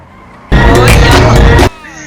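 A loud video game car engine, a vintage-style old car in GTA V, roars for about a second with a harsh revving burst, then drops back to quiet background noise.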